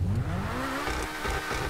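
A supercar engine in GTA 5 revs up with a rising whine, then holds a steady, buzzing high pitch, loud and close.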